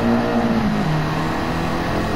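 A Toyota MR2 GT-S with a 2-litre 16-valve turbo engine, mid-mounted with rear-wheel drive, in the racing game Gran Turismo 7, gives a steady, loud engine drone whose pitch drops partway through, as if shifting gears.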